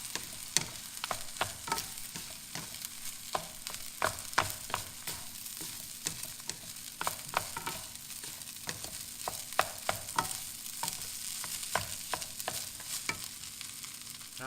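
Smoked fish fried rice stirred in a frying pan, a constant crackling sizzle broken by frequent sharp spatula scrapes and taps in a busy, irregular rhythm, close up with no talking.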